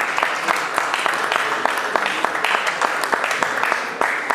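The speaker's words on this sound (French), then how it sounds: "l'applaudir, mesdames et messieurs." A crowd at a tribute event honoring a president applauds loudly, with sharp, crisp claps standing out from a continuous, close wash of clapping that lasts the whole stretch.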